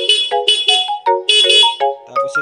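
Stock horn on a Raider 150 Fi motorcycle sounding in a string of short and longer beeps, with a bright two-tone buzzy character, loud and close, no talking.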